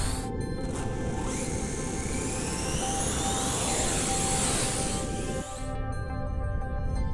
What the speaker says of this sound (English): I'll launch my drone for a better view.